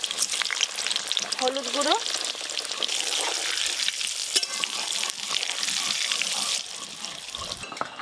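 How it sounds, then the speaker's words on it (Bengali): Boiled potatoes dusted with turmeric powder sizzle and crackle in hot oil for a meatless winter biryani, with steady frying hiss, occasional stirring and a brief spoken word over it. "এবার আমি বিরিয়ানির জন্য আলুগুলো ভেজে নেব"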